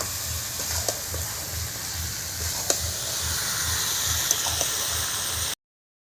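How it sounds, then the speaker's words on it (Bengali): Meat frying in a pan with turmeric and salt, a soft, constant hiss of sizzling oil with a faint low bubbling throb beneath it, ending abruptly in silence. "এবার ভালো করে আমি কষে নেব মাংসটা"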